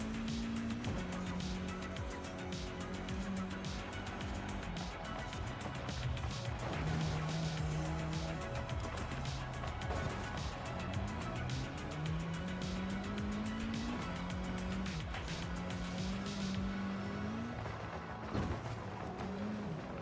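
Continuous racing-car engines from the Forza game, rising and falling through gear shifts with tire squeal and skidding throughout, steady and loud with no talking.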